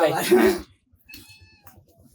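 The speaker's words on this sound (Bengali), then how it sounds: "ওরে কি সুন্দর বিলাই" A cat lets out a loud, drawn-out meow up close, followed by quieter faint sounds and a short high tone in a lull.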